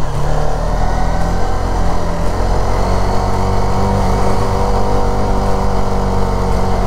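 A Hero Karizma XMR motorcycle engine drones loud and close on a wet hill road, holding a steady throbbing note that rises slightly as the rider moves up into second gear, with no talking.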